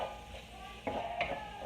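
Shrimp frying in oil in a pan, a soft steady sizzle with a couple of brief spatula scrapes as it is turned, fairly quiet and without talk.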